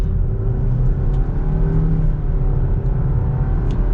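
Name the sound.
2021 Nissan Rogue SV accelerating in sport mode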